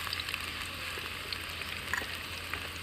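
Onions fry in hot tempering oil for a fish curry, a faint, steady, hissing sizzle with tiny crackles and no voices.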